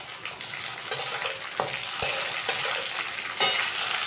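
Tomato fries with lightly cooked onion in a pan, producing a loud, dense, close-up sizzle that runs throughout, with a few stirring scrapes and taps.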